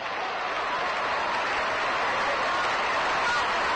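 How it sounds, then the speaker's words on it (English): A baseball crowd at Ebbets Field in 1957 during a Brooklyn Dodgers versus St. Louis Cardinals game claps by hand in a steady, dense wash of applause, distant and continuous across the stands. "Dodger fans begin a little hand clapping now in the background."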